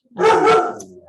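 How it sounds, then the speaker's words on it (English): A dog indoors lets out a single loud, close bark that trails off quickly. "Sorry about my dog"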